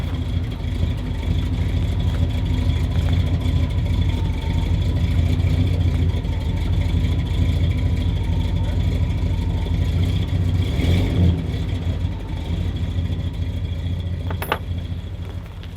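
An old pickup truck called Old Blue drives along with its engine humming steadily from inside the cab, a continuous loud low drone with faint rattles and a brief metallic clink near the end.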